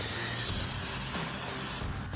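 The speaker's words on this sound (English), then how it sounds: "I'm going to take these out and spray them with brake cleaner too." Aerosol brake cleaner sprayed onto brake parts removed from a 2009-2023 Dodge Challenger, a loud, close, steady hiss lasting nearly two seconds before cutting off abruptly.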